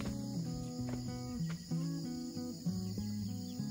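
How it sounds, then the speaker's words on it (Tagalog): Crickets chirp at night in a rural province, a continuous close trill in layered rhythmic pulses with faint background tones. "Ingay ng mga kuliglig."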